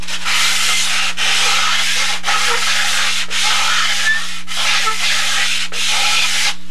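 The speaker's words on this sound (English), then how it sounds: "We got out the sanding T-bar, or another big giant sanding block." A model airplane wing is worked over with a large sanding T-bar, giving loud, steady back-and-forth rasping strokes in about six even passes, close up with no talking.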